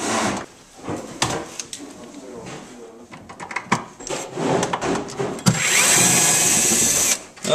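A power drill backing screws out of a kitchen cabinet, with clattering wood knocks and handling noises followed by a long, loud whirring drill burst near the end, all heard close up.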